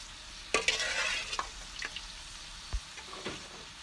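Boiled turnips go into a hot tempering for shaljam curry, giving a faint, quiet sizzle with a few sharp spoon clinks and stirring scrapes.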